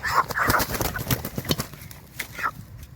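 A chicken on a farm clucks and squawks a few times close up, among scattered tapping and rustling noises.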